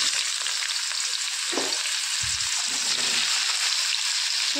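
Ridge gourd and potato sizzle loudly in hot oil with fenugreek seeds, a steady close frying hiss with a couple of soft stirring scrapes and thumps as the vegetables go in.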